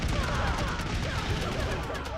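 Musket volleys crackle in a Revolutionary War battle in the game TABS, a dense, continuous stream of overlapping shots and rumbling booms, loud and busy throughout.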